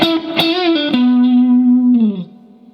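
A distorted, effects-laden electric guitar plays a short phrase from a song's second solo: a few quick picked notes, then a long sustained note that bends down and fades, heard alone and up close.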